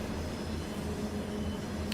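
A ghost train of coal wagons rolls backward in a train simulator game, giving a steady low rumble with humming rail tones, constant and fairly loud with no talk over it.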